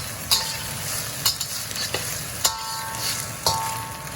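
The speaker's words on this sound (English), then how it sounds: "And then just kind of stir fry it." Egg fried rice with crab and Chinese sausage being stir-fried in a pan, a steady close sizzle broken by several sharp scrapes and knocks of the utensil against the pan, with no talking.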